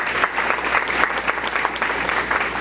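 A congregation at a Lenten church gathering claps in appreciation of an artwork, a brisk, evenly dense round of applause filling the room throughout.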